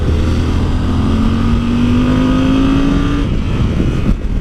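A Yamaha Super Ténéré motorcycle cruising at around 70–80 km/h: a loud, steady engine drone with heavy wind rush and a slowly rising tone as it accelerates, with no talking.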